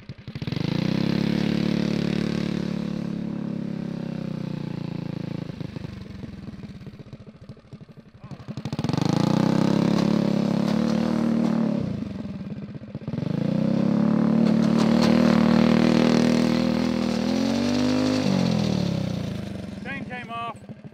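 Rebuilt remote-control go kart engine whining through repeated bursts of donuts, a steady mid-pitched buzz rising and falling in three long runs with brief drops between.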